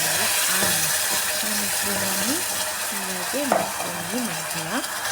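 Chickpea curry cooking in a pan, with a steady hiss of frying and scraping stirring strokes repeating throughout, close and moderately loud.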